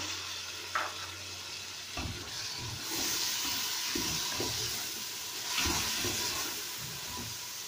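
Chopped tomatoes and green chilies tumble into a hot pan of shaljam gosht and sizzle steadily, with a few soft stirring scrapes and clatters close by and no talking.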